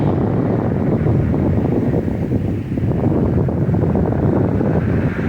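Strong wind roars outdoors on a highway overpass, a loud, constant buffeting rumble battering the microphone with low gusty surges throughout and no talking.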